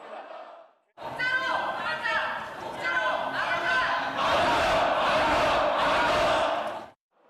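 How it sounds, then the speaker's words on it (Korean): Lawmakers in the National Assembly plenary hall burst into loud cheers, applause and chanted protest slogans after the speaker's gavel, a dense mass of shouting voices that swells and holds for several seconds before cutting off. "국민의힘은 일제히 일어나 피켓을 들고 독재 타도를 외치며 격렬히 저항했습니다"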